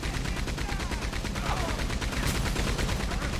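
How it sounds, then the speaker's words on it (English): Rapid repeated gunfire in the Red Dead Online video game, dense and continuous throughout, loud and close, with players talking underneath. "I'm shooting this gun"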